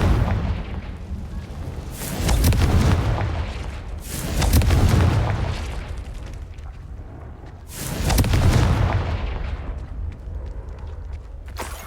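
Confringo blasting-spell explosions from Hogwarts Legacy, three loud booming blasts a couple of seconds apart, each followed by a long rumbling tail that decays slowly.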